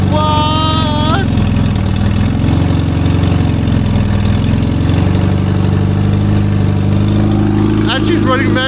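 A car engine with a small exhaust leak idles steadily with a low, continuous rumble throughout, while a voice talks over it and another higher voice chimes in near the end.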